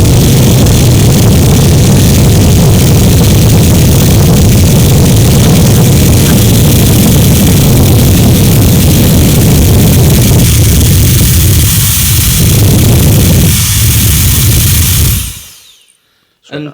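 A GT Power electric blower runs continuously at full power for about fifteen seconds, a loud, rough roaring whoosh close up, then cuts off abruptly into near silence.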